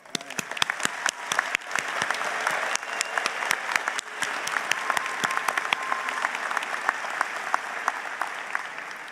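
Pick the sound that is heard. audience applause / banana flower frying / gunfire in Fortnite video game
audience applause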